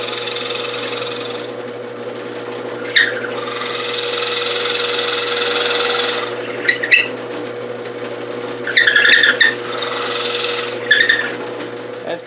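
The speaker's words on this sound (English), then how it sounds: "I'm using a 3/4 inch bit this time." A 3/4 inch bit drills down into a clamped wood block, making a steady grinding whir that runs in long passes with brief pauses and bursts of scraping between them.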